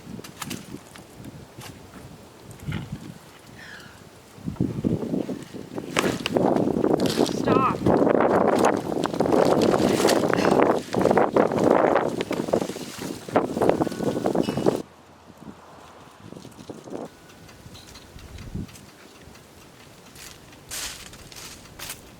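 Gusty wind buffets an outdoor microphone in a garden, roaring loudly for several seconds in the middle before easing off to a softer rustle, with brief speech nearby.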